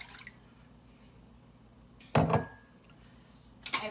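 One cup of water goes into an Instant Pot's inner pot, a brief splashing pour with metallic clatter, close and fairly loud in an otherwise quiet kitchen, followed by another short clink.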